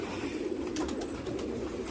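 A brief stretch of soft, layered cooing from many loft pigeons kept in Nashik, heard up close as a steady low burble with no pause.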